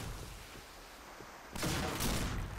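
Gunfire from the shooter game Point Blank, a dense muffled crackle of shots that swells into a louder burst of rapid fire partway through, with no voices.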